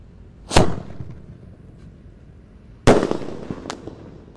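Two sharp firecracker bangs go off a couple of seconds apart, each a loud crack with a brief crackling tail, in a quiet outdoor setting, set off to welcome Ramadan in Indonesia.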